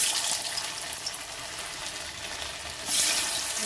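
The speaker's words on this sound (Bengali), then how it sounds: "ভালো করে তেলে ভেজে নেব।" Maggi Manchurian balls deep-frying in oil in a wok give a dense, steady hiss of bubbling oil that swells slightly louder near the end, with no voices.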